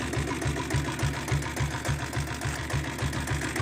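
A 7.5 HP self-start diesel engine in a Royal Enfield Bullet motorcycle runs at a steady low idle, thumping in an even, rapid rhythm up close, loud and alone.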